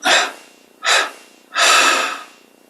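Three forceful breaths pushed out in sequence during a yoga breathing exercise: two short sharp exhales followed by a longer, sustained one, close and breathy with brief pauses between.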